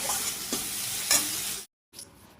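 A pan of Bengali fish curry (fish jhol made with pre-fried fish) is stirred and fried, giving a steady close sizzle with a few sharp stirring scrapes, then a brief cut to silence before the quieter sizzle resumes.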